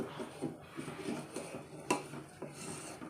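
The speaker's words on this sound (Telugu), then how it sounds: "ఇలా కలుపుతూనే ఉండాలి హైలోనే" Homemade ghee stirred in a pan over high heat, with soft scraping and occasional metallic clinks of the utensil against the pan, fairly quiet and continuous.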